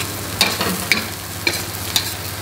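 Onions cooking in a pan until wilted, a close steady sizzle with four evenly spaced scraping stirs of a utensil over roughly two seconds, and nobody speaking.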